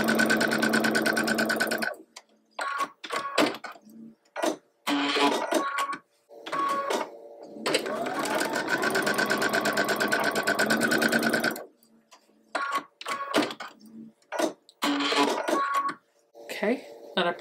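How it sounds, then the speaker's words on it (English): Domestic sewing machine stitching long fabric rectangles to a quilt block square in loud, close bursts of steady whirring, broken by brief pauses and small clicks. "I'm just going to sew one of these long rectangles to either side of that square"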